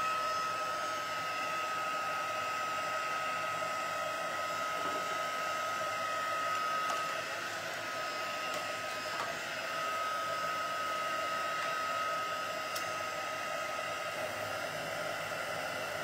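A hair dryer blowing steadily on tacky glue applied to gold leaf flakes for an antiquing finish, giving a constant whirring hiss with a fixed whine, unbroken and alone for the whole stretch.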